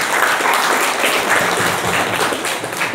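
An audience at a provincial committee welcome event in Central Java claps together in dense, sustained applause that stays loud for a few seconds.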